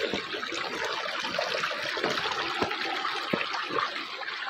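Village river water rushing over rocks, a steady broadband wash of flowing water with occasional splashes, close and continuous without pause.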